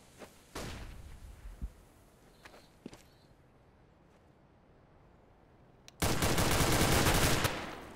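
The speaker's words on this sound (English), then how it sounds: "Fire in the hole. Flashbang. Deploying flashbang." Gunfire and a flashbang grenade in the CS:GO video game: a sharp blast early on, a few faint clicks and shots, then a loud, dense burst of rapid fire lasting about a second and a half near the end.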